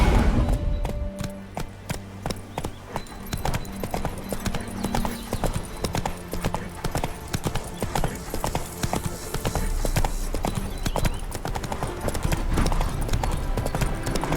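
Horse hooves clip-clop in a steady, rapid rhythm throughout in The Witcher 3, loud and close, with occasional heavier thuds over a dense game soundtrack.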